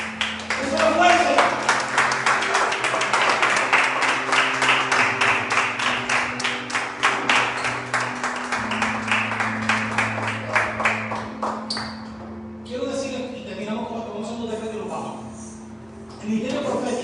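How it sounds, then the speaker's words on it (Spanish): A church congregation stands and claps together in steady rhythmic applause, loud and sustained, with voices rising over it before it tapers off. "Póngase de pie, un aplauso a Jesucristo."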